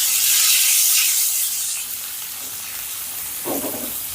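Water poured into a hot pan while cooking a potato tea-time snack sets off a loud, steady hiss that gradually softens into a quieter, bubbling simmer, with no voices.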